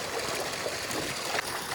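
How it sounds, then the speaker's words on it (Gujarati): Water pours from a motor-fed tap for bathing, a brief continuous splashing and trickling stream at close range without any talk. "તો જો હવે પાણી ચાલુ છે"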